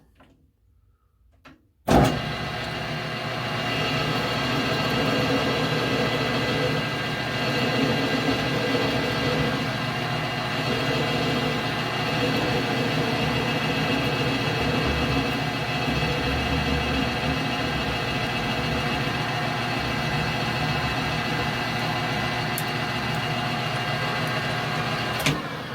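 A lathe spins at 300 RPM while knurling steel spacer pins for a heavy-duty knurling tool kit, switching on abruptly and then holding a steady, loud motor hum with tonal whine for the rest of the clip, with no talk.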